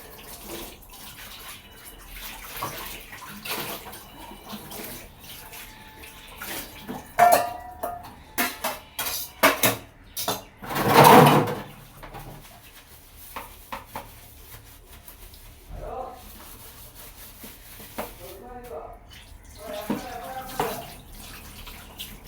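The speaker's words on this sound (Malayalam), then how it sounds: "ഈ പാത്രമൊക്കെ കഴുകി കഴിഞ്ഞു." Dishes being washed under a running tap, pans used for making idiyappam among them, with water splashing and clattering in bursts that swell loudly around the middle before settling into quieter rinsing and clinks.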